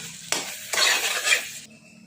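Boiled eggs drop into ginger-paste, chili and turmeric masala in a hot pan for a Telugu-style egg curry, setting off a sudden loud sizzle that swells, is stirred with a utensil, and then quickly fades.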